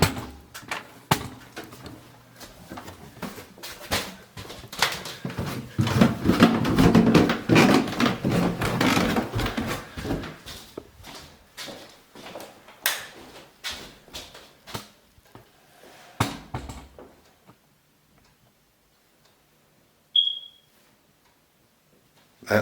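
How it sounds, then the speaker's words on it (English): A smoke detector sealed inside a wall gives a single short high chirp near the end, faint and muffled, following a stretch of shuffling, tapping and handling noises nearby. "That noise is the sound of a smoke detector that has been walled in."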